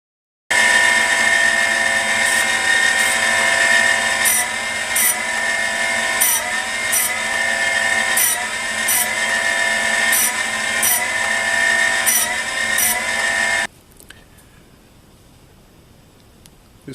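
A grinder plunge-cutting even steps into a clamped workpiece, a loud continuous mechanical whine with regular rhythmic ticks as it works, running about thirteen seconds before cutting off abruptly into near quiet.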